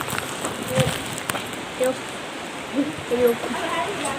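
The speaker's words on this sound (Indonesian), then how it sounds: "ini teman-teman, hujan, ini cuacanya gelap nih" Heavy rain pours under dark skies, making a steady, dense hiss throughout with faint brief voice sounds above it.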